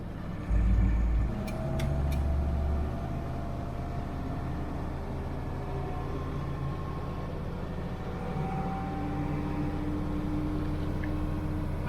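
A 1988 Unimog truck on the road with a steady, low engine drone and rumble throughout, heard from inside the cab, with a brief louder thump near the start and no talking.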